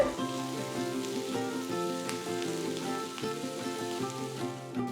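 Steady crackling sizzle of mustard seeds popping in hot oil, soft sharp pops scattered over a continuous hiss, with no talking.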